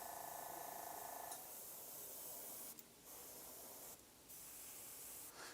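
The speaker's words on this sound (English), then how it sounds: "Gonna get some overspray. Overspray is fine." Airbrush spraying paint onto a Marvel Crisis Protocol miniature, a steady close airy hiss that runs in bursts with two short pauses partway through, no talking.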